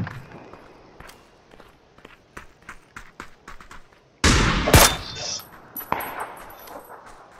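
Gunfire in the battle-royale game PUBG: light footstep-like tapping gives way to a sudden loud, dense burst of shots midway, followed by scattered sharp reports. No talking.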